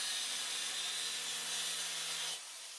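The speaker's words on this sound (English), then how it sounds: "I clamped it down to create a shallow scoring line right where I needed to bend" A tool scores a shallow bend line into a clamped plate in a garage, making a steady, harsh hissing grind for about two seconds before abruptly dropping to a quieter hiss.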